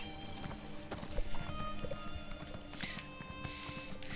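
Hooves of a horse being ridden in a video game clip-clop in a quick, steady rhythm at moderate distance, with a faint whinny-like sound partway through.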